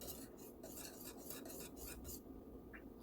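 Cornmeal porridge being stirred in a pot after ginger, nutmeg and cardamom are added, a steady soft scraping and swishing that runs continuously at low volume, with no talking.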